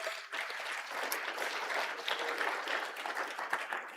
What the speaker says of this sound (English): Everybody give a round for applause for Garland